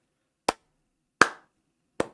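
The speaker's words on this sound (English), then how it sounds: "This applause is for you." Three separate sharp hand claps, spaced evenly about three-quarters of a second apart, close and crisp against silence.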